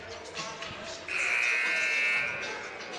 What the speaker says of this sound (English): the buzzer signals the end of this timeout